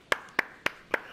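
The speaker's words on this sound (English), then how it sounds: "I'm gonna clap for that, man." Four sharp hand claps in an even, brisk rhythm, close and clear with no speech.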